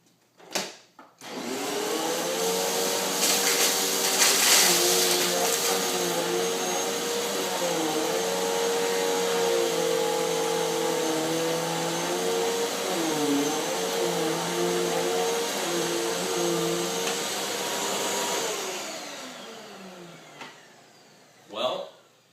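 A Hoover Windtunnel T-Series upright vacuum runs over patterned carpet with a loud, steady motor whine and roar that starts up, holds for nearly twenty seconds with slight pitch dips as it moves, then cuts off.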